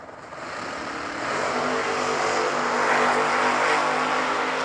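Drag race engines roar steadily at a heads-up start between a Chevy Nova and a Vega station wagon, a broad, continuous engine noise that swells after the first second and holds loud and sustained.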